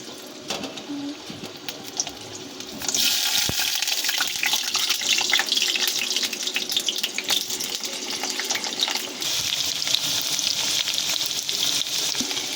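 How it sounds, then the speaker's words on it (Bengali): Potatoes drop into hot oil in a pan and a loud, steady sizzle bursts up after a quieter start, crackling continuously with occasional clicks and stirring scrapes, with no talking. "তেলটা আমাদের গরম হয়ে গেছে এবার আমরা আলুগুলোকে দিয়ে দেব"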